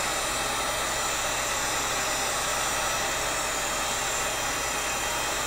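A heat gun warms PVC pipe with a steady, unbroken hiss and roar, constant and close throughout with no pauses or talk.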